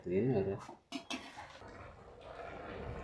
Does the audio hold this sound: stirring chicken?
yes